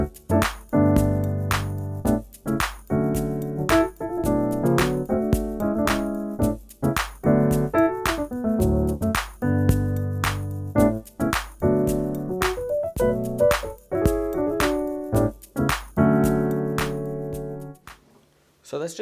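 Keyboard chord movements, including a move to the two dominant, played in the gospel song O Give Thanks: a steady run of close, full piano-like chords with rhythmic attacks, alone with no talking, fading out at the end.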